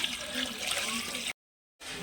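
Water pours steadily into a cooking pot for chicken biryani, a continuous splashing gush that cuts out abruptly for half a second and then resumes, with no talk.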